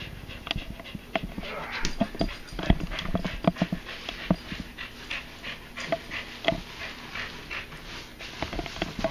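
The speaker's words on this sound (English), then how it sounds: "Doggy's sitting here saying, I want my food." A dog pants and whimpers while waiting for food indoors, quick breathy panting and soft whines running steadily at close range alongside light handling noises.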